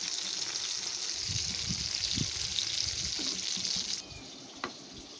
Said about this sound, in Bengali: এখন এখানে আমি পাঙ্গাস মাছ ভাজা করছি